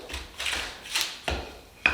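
A drill biting into wooden barn beams to pre-drill screw holes, a few short grinding bursts in a quick uneven rhythm, close and fairly quiet.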